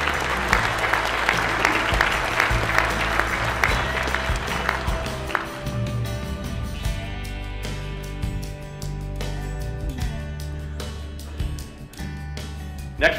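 An audience at the Kansas Farm Bureau's 100th annual meeting gives a farm family, the Krauses, a long, steady round of applause, many hands clapping for over ten seconds and gradually thinning toward the end.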